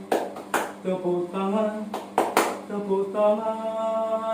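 A few sharp hand claps keep time with a cheerful scout song sung in a group, the claps standing out as loud isolated bursts between the sung notes.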